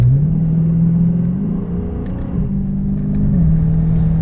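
2017 Dodge Charger SRT 392 with a 6.4L V8 and ZF 8-speed accelerating hard off the line, a deep, loud engine drone rising in pitch, dipping at a quick upshift and climbing again.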